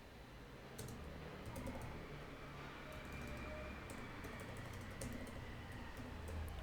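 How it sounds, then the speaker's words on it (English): Keys tapped on a computer keyboard in short bursts of clicks, light and close-up, over a low background hum with no talking. "So I'll just type Streamlit."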